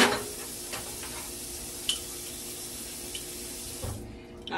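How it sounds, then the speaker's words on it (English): Tap water runs steadily into a jar in a home kitchen, a continuous close splashing hiss that stops abruptly near the end, with a few small clinks along the way. "I am going to put water into this jar,"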